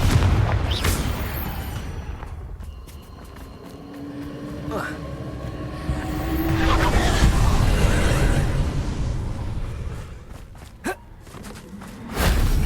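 Several booming blasts from the Confringo fire spell burst out in the Hogwarts Legacy video game, spaced irregularly over rumbling game ambience, with a voice heard intermittently.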